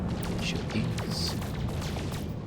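Weapon fire in the No Man's Sky video game, a dense spray of rapid synthetic booms and zapping sweeps layered over a continuous low drone, with a voice faintly present.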